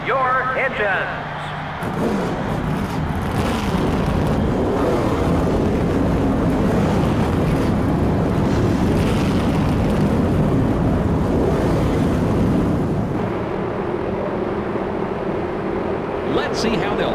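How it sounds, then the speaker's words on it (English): A field of stock car engines fires up and roars in NASCAR Thunder 2003 on PS2 for the Coca-Cola Racing Family 600 at Lowe's, a dense, sustained, loud rumble with a muffled voice faintly underneath. "start your engines."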